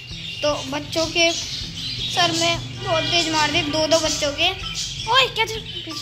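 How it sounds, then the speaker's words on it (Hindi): Small caged birds chirp and tweet in the background while someone talks over them, with a voice briefly heard. "ये जो चिड़िया की आवाज आ रही है ना"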